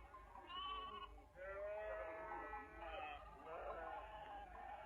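Sheep bleating near a well, several wavering bleats in close succession, fairly faint and overlapping, with no speech over them.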